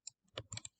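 A few quick, close keystrokes on a computer keyboard while entering a value in SketchUp Pro 2023.1: crisp, light clicks in a short burst, quiet and with no talking.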